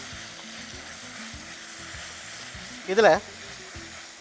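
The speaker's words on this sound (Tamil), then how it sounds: "ஸோ தக்காளி நல்லா வதங்கிடுச்சு" Tomatoes sauté in a frying pan with a steady, close sizzle and soft stirring knocks; a voice speaks briefly.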